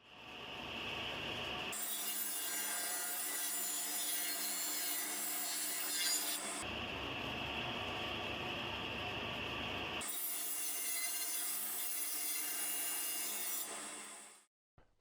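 A table saw with its riving knife removed cuts a 15 by 12 mm groove in wood for a horizontal beehive. Two long, loud, harsh cutting passes ring out, separated by a brief lower hum of the running blade.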